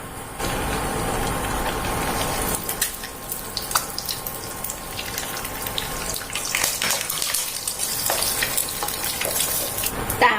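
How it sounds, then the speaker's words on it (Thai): A fried egg for kimchi fried rice spits and crackles in hot oil in a pan. The steady, close sizzle carries a wash of bubbling hiss and scattered sharp pops throughout. "เราจะทอดไข่ดาวกันก่อนนะคะ"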